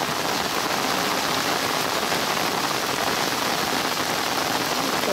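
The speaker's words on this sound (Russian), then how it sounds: "О, приятный дождичек." Steady rain pours down outdoors during a metal-detecting dig beside a river, a dense, continuous hiss of drops pattering on surfaces and an umbrella, loud and unbroken with no voices.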